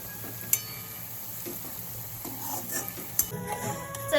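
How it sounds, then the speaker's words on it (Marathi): Chopped onions with salt sizzle softly in oil in a pan while making Maharashtrian chicken biryani, with a few sharp clinks of a spoon stirring against the pan. "यात थोडं मीठ ऍड करूया जेणेकरून कांदा लवकर फ्राय होईल"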